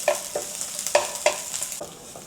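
Ginger slices stir-fried in a wok, sizzling steadily with several sharp scraping clatters of a spatula tossing them, close and fairly loud, no voices.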